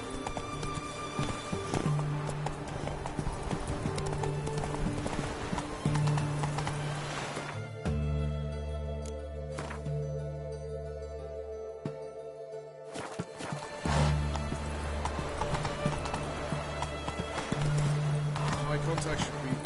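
Hooves of the horse Roach beat in a steady clip-clop rhythm while galloping in the video game The Witcher 3, under a voice speaking and background music, briefly dropping away midway.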